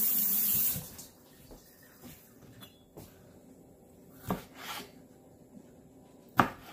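Running tap water pours steadily at the start while garlic is rinsed in a home kitchen, then stops, leaving quiet room tone broken by a few soft clicks and knocks of handling.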